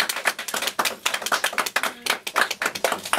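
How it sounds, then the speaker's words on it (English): Wedding guests applauding a newly married couple just after the ceremony's kiss, a close, continuous patter of many hands clapping irregularly with no talk over it. "And I think a round of applause for them."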